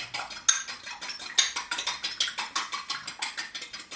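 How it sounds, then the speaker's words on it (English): An egg is whisked briskly in a bowl, the whisk clinking against the sides in a fast, steady rhythm of sharp metallic ticks, close and fairly quiet, with no talking. "We're going to whisk our egg"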